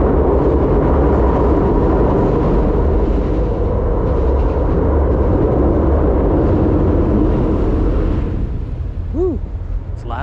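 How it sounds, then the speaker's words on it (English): A train rumbles loudly and steadily over a bridge near the Neponset River in Boston, a dense broadband roar that fills the whole clip without a break. "here, another train going over"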